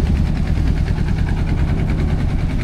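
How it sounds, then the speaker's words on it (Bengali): A trawler boat's engine runs on a river, a loud, steady low rumble with a faint rhythmic throb, close and continuous throughout with no voices over it. "আর তার পাশেই হচ্ছে একটা ট্রলার যাচ্ছে"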